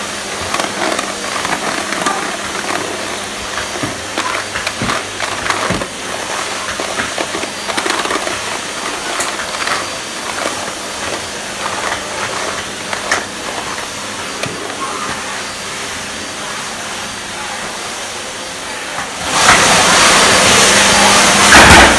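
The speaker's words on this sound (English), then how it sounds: "I actually find the best way of cleaning outdoor tiles is to use a vacuum" A garden vacuum sweeps outdoor tiles, giving a steady, close motor roar with scraping and rattling debris that swells louder near the end.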